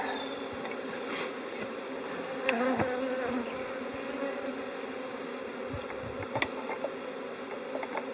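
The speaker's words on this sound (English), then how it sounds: "It sounds like happy bees in that 4A hive" Honey bees buzz steadily around a hive during swarm catching, a continuous close drone with individual bees passing near, audible throughout with no talk.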